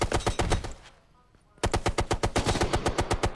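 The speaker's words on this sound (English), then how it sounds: "The issue with light machine guns and big heavy caliber guns is always that you can be suppressed" Heavy machine gun fire in the game Ghost Recon Future Soldier: rapid, loud bursts of regular shots that stop for about half a second, then resume in a long, steady stream.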